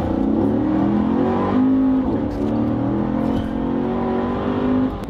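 A car accelerates hard from a standstill. Its loud engine note climbs steadily, dips briefly as it shifts, then climbs again, with no voices.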